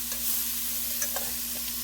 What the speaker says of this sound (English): We got the water boiling.